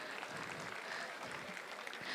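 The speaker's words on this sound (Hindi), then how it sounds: "जोरदार तालियां डॉक्टर अजय के लिए।" Audience applause at a 73rd birthday celebration, a short, faint patter of many hands clapping in a hall, steady and distant.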